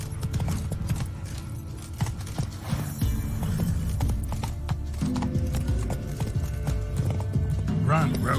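Roach the horse gallops in The Witcher 3, with quick rhythmic hoofbeats and a whinny near the end over a continuous game background and talking.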